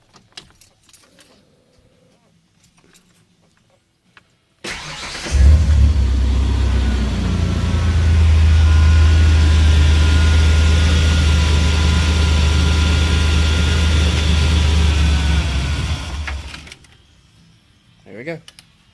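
A Ford Ranger with a 4.0 V6 engine cranks and fires after a few quiet seconds with faint key jangles, then idles loudly and steadily close by for about ten seconds before shutting off into quiet.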